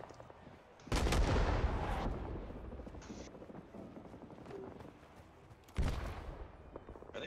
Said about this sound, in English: Are they shooting us through the walls?